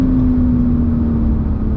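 A Porsche accelerating on a race circuit, heard as a loud, steady, droning engine note with a constant low hum and no voices.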